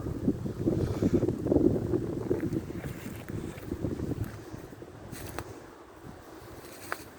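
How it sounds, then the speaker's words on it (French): Strong wind gusts from Storm Denis buffet the microphone with a heavy low rumble that swells early and then eases to a steadier rush, no talk. "Il y a peut-être une bourrasque qui arrive."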